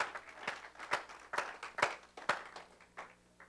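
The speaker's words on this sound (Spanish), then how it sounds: "den un aplauso fuerte al Señor" A church congregation at an evangelistic service claps in a steady rhythmic beat, about two sharp claps per second, fairly quiet and with no talking over it.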